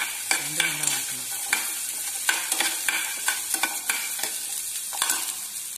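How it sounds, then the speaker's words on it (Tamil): Garlic sautéing in a pan while a spoon stirs it, with a steady sizzle broken by sharp repeated scraping clacks, close and loud with no voice. "கொஞ்சம் பூண்டு எடுத்துக்கலாம், நல்லா வணக்கிக்குங்க."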